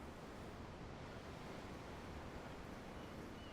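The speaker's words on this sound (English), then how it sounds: "The waves. They help me think." Steady ocean surf rushes in the Tales of Arise video game, a constant broadband wash of waves with no distinct breaks or voices.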